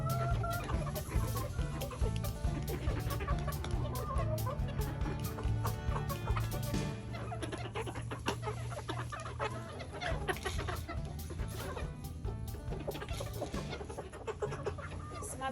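Young hens, hatched in late October, clucking and chattering continuously in a chicken coop, several birds close by with overlapping calls.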